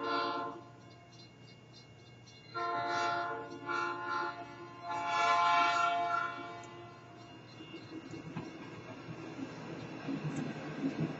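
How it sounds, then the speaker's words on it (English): A train horn sounds in long harmonic blasts, loud and near, followed by the rumble of rail cars rolling past. "hey, train sounds."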